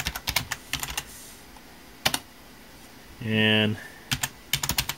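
Keystrokes on a computer keyboard entering a Windows 7 Home Premium product key, in quick clusters of sharp clicks separated by pauses, close and clear, with a brief word spoken.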